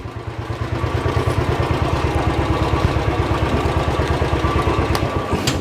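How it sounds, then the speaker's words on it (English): A Royal Enfield motorcycle idles close by in a parking lot, its single-cylinder thump beating in a steady, even rhythm with a loud low-pitched chug throughout. "Here I'm going to park my Royal Enfield."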